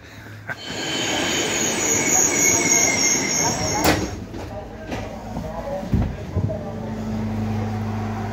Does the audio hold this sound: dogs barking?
no